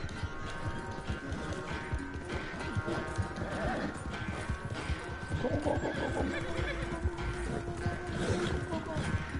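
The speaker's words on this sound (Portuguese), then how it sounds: "o cavalo tá cansando" A horse whinnies and gallops in the Red Dead Redemption 2 video game, with steady clip-clop hoofbeats running throughout, neighs rising over them and game noise in the background.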